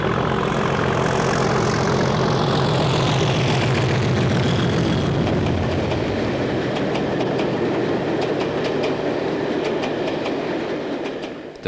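A British Rail Crewe test train runs past west of Abergele on the North Wales line, heavy and close with a steady engine drone, then rhythmic clickety-clack of wheels over rail joints that fades slightly toward the end.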